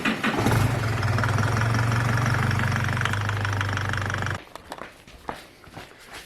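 An Isuzu D-Max with a 4JJ1 diesel engine starts and runs close by, a loud steady low diesel rumble that cuts off abruptly after about four seconds, leaving faint clicks and handling noises.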